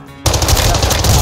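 Rapid video game gunfire from a pistol bursts in suddenly after a brief quiet moment, loud and dense with no voices.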